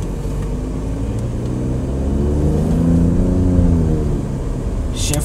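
An Alfa Romeo Stelvio Quadrifoglio engine accelerating, heard loud and close from inside the car as a smooth drone that rises in pitch, swells, then eases off, with a brief click at the very end.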